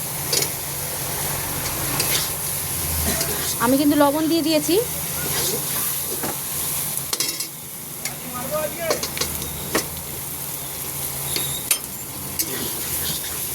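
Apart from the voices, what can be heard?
frying with spices in a pan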